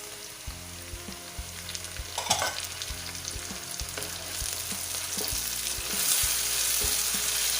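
Tomatoes go into a hot frying pan for arvi (taro) curry. The oil sizzles steadily under repeated rhythmic scraping and stirring of the spoon against the pan, and the sizzle rises slightly toward the end.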